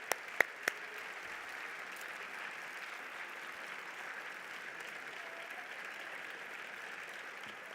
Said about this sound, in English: One more applause for our three grantees tonight.